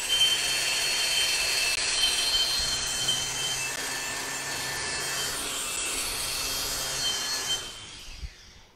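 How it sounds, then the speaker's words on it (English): Stick welding a hot pass on pipe in the 5G position, a steady, close, crackling arc hiss that runs without a break and cuts out shortly before the end. "This ain't my best welding."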